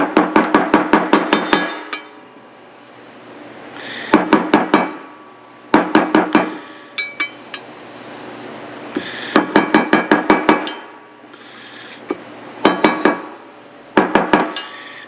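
A small hammer taps a seal into place on a KTM hybrid in quick bursts of several sharp metallic strikes, pausing between groups, close and loud with no talking.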